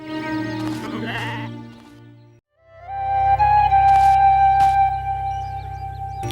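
Sheep bleat loudly and repeatedly, drawn-out wavering cries from several animals close by, with a short quiet gap partway through.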